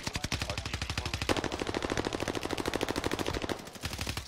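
Rapid automatic gunfire from a low-recoil gun in Call of Duty Warzone, a steady, fast rattle of shots that runs almost without a break, close and loud.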